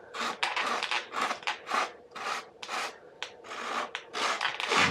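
Heavy-grit sandpaper shaping a foam RC plane, a quick series of close, soft rasping strokes that go back and forth in short uneven bursts, with no talking.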